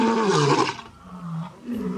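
A lion's roar is played as a sound effect: a loud, rough, full-throated bellow that fades, then a lower, fainter growl follows near the end.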